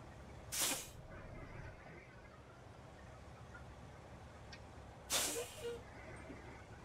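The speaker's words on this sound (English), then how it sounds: "if y'all like that air brakes sound like you just heard, that is ZMods right there. Air brakes mod." Two sharp hisses of truck air brakes from the ZMods air brakes mod in American Truck Simulator on a Freightliner FLD, each a short, bright burst about four seconds apart, over a low, steady engine rumble.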